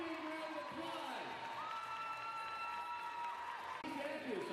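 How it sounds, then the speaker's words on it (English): Crowd applause and cheering fill the gym at a college volleyball match between Saint Martin's and Western Washington, a faint, steady wash of clapping under an announcer's voice. "Give Luna a big round of applause."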